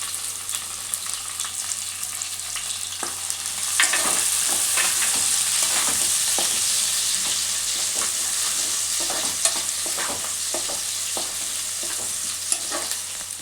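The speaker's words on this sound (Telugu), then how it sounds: "ఇప్పుడు ఉల్లిగడ్డ, పచ్చిమిర్చి కూడా వేసుకోవాలి." Onions and green chilies fry in a hot pan for Schezwan egg fried rice, a steady loud sizzle with scattered stirring scrapes and clinks, the crackle intensifying after a few seconds as the vegetables hit the oil.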